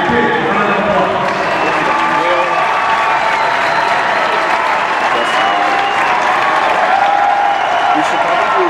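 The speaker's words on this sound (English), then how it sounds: "Let's give all these student athletes a big round of applause." A crowd claps continuously in sustained, dense applause for student athletes at a hockey event in Pittsburgh, with voices mixed into the steady clatter.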